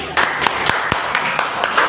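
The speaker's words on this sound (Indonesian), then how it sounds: "Oke, tepuk tangan untuk kelompok ini." Scattered hand claps ring out in a classroom as a small group of students is applauded. The claps come as quick, uneven strikes, with a voice speaking over them.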